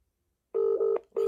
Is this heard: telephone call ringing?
yes